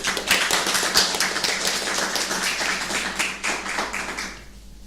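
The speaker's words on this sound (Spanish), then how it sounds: "un fuerte aplauso para él" Applause from a conference audience for a guest lecturer, dense and steady clapping from many hands filling the room for several seconds before tapering off at the end.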